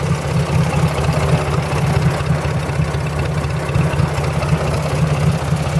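A Ford 4000 tractor's gasoline four-cycle engine idles steadily nearby, a low, even throbbing rumble that holds without change throughout.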